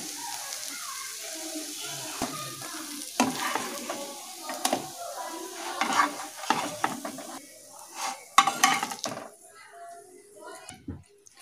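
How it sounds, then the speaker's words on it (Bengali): Slices of bread fry in a pan for a bread-and-egg breakfast toast, giving a steady sizzle broken by clinks and scraping stirs, with a voice talking faintly now and then. "সব পাউরুটিগুলো এইভাবে ভেজে নেব।"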